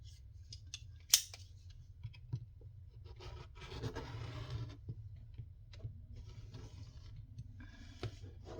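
Scissors slice through thick paper for a junk journal, a series of quiet crunching snips and rubbing strokes over a low background hum, with one sharp click early on.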